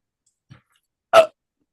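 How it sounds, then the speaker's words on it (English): A short burp into a microphone during a podcast, with a faint small sound first and then a single loud, brief belch up close, surrounded by silence. "Did you burp into the microphone?"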